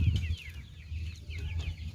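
Several chickens cluck steadily and close by, with overlapping throaty calls and a few higher squawks layered on top.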